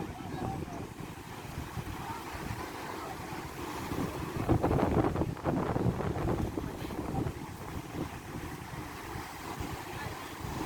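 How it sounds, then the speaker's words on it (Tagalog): Strong wind roars steadily across the microphone over open sea, with waves and a boat's rumble underneath, gusting harder midway; faint voices now and then. "lakas talaga ng hangin."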